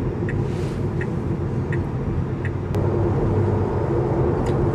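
Cabin sound inside a Tesla Model 3 electric car cruising on the Meishin Expressway: a steady, dense road and wind hum with no engine note, a faint ticking, and a slight swell in level partway through.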